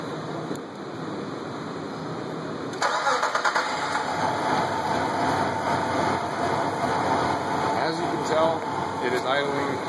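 A 1999 Nissan Pathfinder with a misfire cranks and fires up, then settles into a loud, extremely rough idle with an uneven, hesitant churn that continues to the end.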